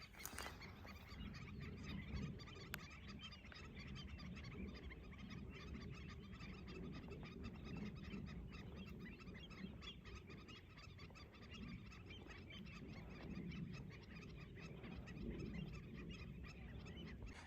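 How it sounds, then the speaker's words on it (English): A large flock of birds honking across a salty Great Salt Lake wetland, a constant far-off chorus of overlapping calls layered under wind. "you can see how many birds there are here in this wetland"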